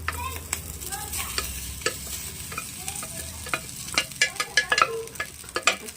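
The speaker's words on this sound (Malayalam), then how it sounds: "സൈഡ് മാറ്റിയിട്ട് നമ്മൾ ഈ റൈസ് ഒന്ന് ഇട്ട് കൊടുക്കുവാണ്." Cooked rice tipped into a pan and stir-fried for homemade chicken fried rice, with steady sizzling under repeated scraping and clattering of a spatula that grows busier and sharper toward the end.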